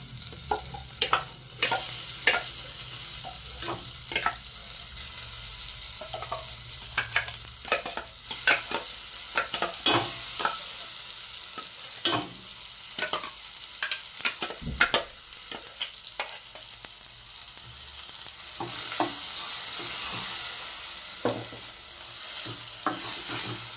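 Ground masala for chickpea sambar fries in a pan, its sizzle continuous while a spoon stirs with irregular scraping and tapping strokes, close and steady throughout.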